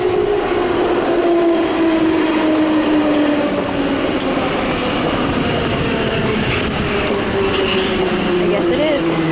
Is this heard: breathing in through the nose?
no